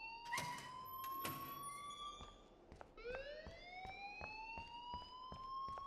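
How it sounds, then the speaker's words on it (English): School fire alarm in the game Life is Strange: a loud electronic siren tone sweeping upward again and again, punctuated by sharp clicking pulses, playing alone without speech. "please turn off that alarm since that's your job"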